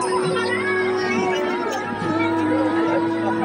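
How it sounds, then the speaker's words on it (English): A large crowd at a school fete in Sonada, held at Holy Cross Convent girls' school, fills the air with steady chatter and children's voices, with music humming underneath. "Huge crowd."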